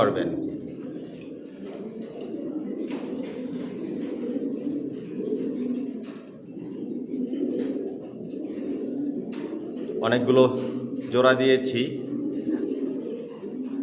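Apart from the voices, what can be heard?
pigeons cooing in a pigeon loft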